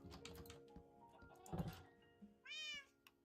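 A cat in a room gives a single high meow near the end, heard over soft thumps and keyboard-like tapping in a quiet, close space.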